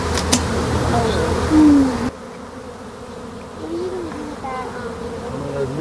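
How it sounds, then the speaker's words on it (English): Bees buzz close by around a hive in a loud droning swarm, the pitch wavering as individual insects pass near and then fade a little. "A lot of these bees that are flying right here might belong in this hive here"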